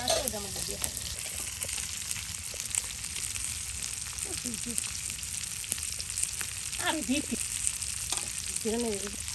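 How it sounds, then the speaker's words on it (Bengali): Small fish chorchori frying in a pan, a dense, continuous close sizzle with occasional stirring clatter, and brief voices talking over it. "আর এখন গুড়া মাছের চচ্চড়ি ভুনা তরকারি রান্না করা হবে।"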